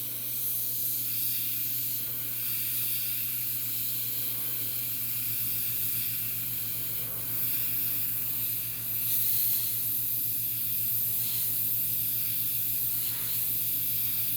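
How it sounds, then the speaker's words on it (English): An airbrush sprays paint onto a custom 1/4 scale figure, a steady close hiss that holds for the whole stretch with a low hum under it and no talking. "You see this going real tight with the airbrush."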